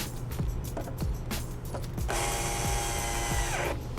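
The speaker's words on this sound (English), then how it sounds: "we're gonna start screwing in our plate with our gasket on" A power driver turns screws into a fuel tank liner plate fitted with a gasket, short whirring bursts ending in one longer steady run, close up amid workshop clatter, no talking.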